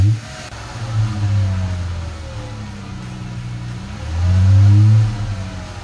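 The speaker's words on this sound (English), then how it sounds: "So as I hit the gas pedal, it responds." A V6 Dodge Challenger from the 2015-2017 years revs up twice as the gas pedal is pressed, with a steady idle between two loud, swelling bursts of engine sound and no talking.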